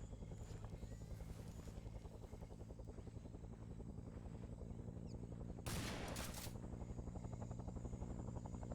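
Dense rattling gunfire rolls on under the steady thumping rotor of a helicopter overhead in a Vietnam War video game, with one sharper burst of shots standing out partway through and no talking.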